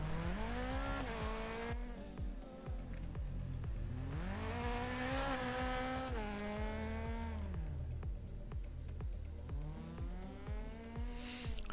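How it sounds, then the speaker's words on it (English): Engine note of a small Renault Twingo rally car in a WRC racing video game, rising and falling with gear changes and revving throughout, loud and close, with brief tyre squeals and no talking. "this little Twingo is not exactly the fastest car in the world"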